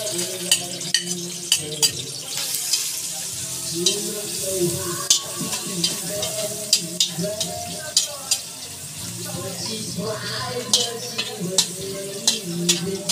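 Ginger sautéing in a pan for beef papaitan, a steady hiss of frying with repeated sharp spatula clicks and scrapes against the pan, close and fairly loud.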